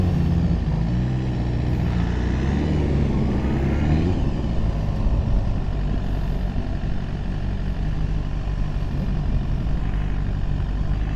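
A 2018 BMW S1000RR sport bike cruising at very light throttle gives a steady, loud, broadband engine and wind drone that holds evenly throughout.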